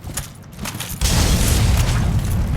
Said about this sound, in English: Damn fire bombs.